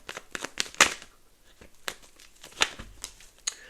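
Tarot cards are shuffled by hand in crisp, irregular bursts of riffling and crinkling, close and fairly quiet, with sharp flicks scattered over a few seconds and no speech.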